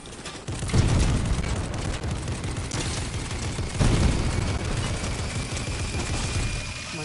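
Gunfire in Fortnite, a sustained rapid fusillade of loud shots with two heavier bursts of intensity, continuous and close throughout.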